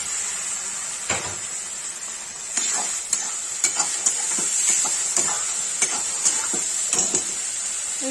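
Onion with turmeric and red chili sizzles in a hot pan, a steady bright hiss broken by repeated scraping clacks of a spoon stirring against the metal, close and alone with no talk.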